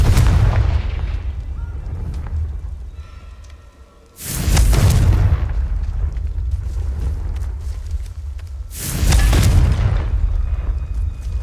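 The Confringo blasting spell goes off twice in a Harry Potter video game, each a loud, deep booming explosion with a rumbling tail over a constant low background roar.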